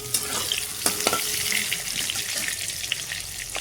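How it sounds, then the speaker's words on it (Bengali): Pointed gourd frying in a pan while browning on both sides, giving a steady close sizzle with a few sharper crackles and scraping stirs throughout, no talking. "পটলটা ভালো করে লাল লাল করে ভেজে নেব"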